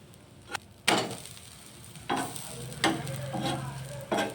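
A vegetable aloo paratha fries in oil on a pan: a soft background sizzle punctuated by several sharp bursts of crackling and spattering as it is pressed and moved.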